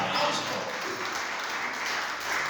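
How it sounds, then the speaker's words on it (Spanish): Church congregation applauding together, a steady dense wash of clapping that fills the short stretch at a moderate, even level with a slight swell at the start and end. "Aleluya. Denle un aplauso."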